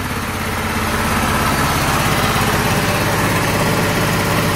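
Small engine of a 24 volt Predator DC generator warms up, running with a steady loud droning hum, close and alone.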